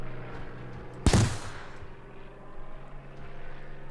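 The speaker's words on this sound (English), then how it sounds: "hopefully you'll see the loop of the rocket as it fires" A bazooka rocket fires in Spearhead 1944 as a single sharp, loud blast that rolls off into a fading whoosh over a low, steady engine hum.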